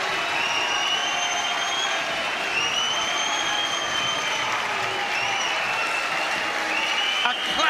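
Sustained applause from a large indoor boxing crowd at York Hall, Bethnal Green, dense and even, with some cheering and whistles rising over the clapping.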